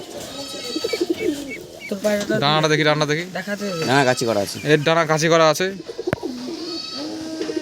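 Jack pigeons in a loft in Nadia coo, their low warbling calls sounding close by beneath someone talking over them throughout.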